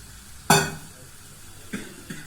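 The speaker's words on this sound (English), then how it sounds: "After just boil the pasta, mix it properly with the sauce and the mixture." Boiled pasta being stirred into sauce in a pan with green chilies, with one loud scrape at the start and two softer utensil strokes later, close and otherwise quiet.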